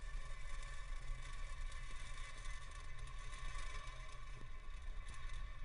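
A SpaceX Falcon 9 booster fires all nine Merlin engines during launch, heard as a steady, distant low roar and rumble with constant crackling texture and no voices.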